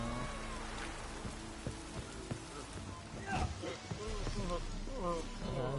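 Heavy rain pours down steadily in The Witcher 3, a constant hiss of downpour heard close and filling the scene, with faint game sounds and voices moving beneath it.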